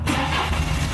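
A BMW 1 Series starts up and settles into a steady, close mid-pitched engine rumble that carries on evenly after a brief onset.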